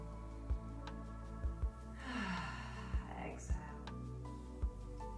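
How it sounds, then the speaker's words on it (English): A deep breath drawn in and let out during a gentle yoga session, a soft airy rush in the middle, with faint clicks and low background hum around it. "Let's take 1 deep breath."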